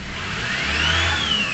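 A 2015 Ford Ranger XLT with the 2.2 engine, suffering low power, excess noise and white smoke, revs up from idle, its loud, close engine note climbing and whining steadily higher.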